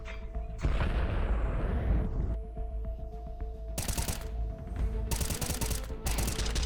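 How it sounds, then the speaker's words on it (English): Two grenades detonating during a professional Counter-Strike match at IEM Cologne, heavy booming blasts mixed with bursts of gunfire and loud broadband crackle, near and forceful, with no speech. "here's that double nades"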